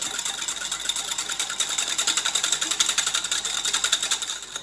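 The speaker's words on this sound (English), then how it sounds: "I'm gonna get a whisk and really whisk it up" Egg white is beaten by hand with a whisk until foamy, a fast, regular train of close tapping strokes that keeps an even rhythm throughout with no speech.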